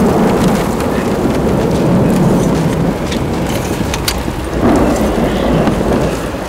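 A heavy thunderstorm batters a parked SUV, steady loud rain drumming on the vehicle with deep rolling thunder and sharp crackling strikes close by, no voices.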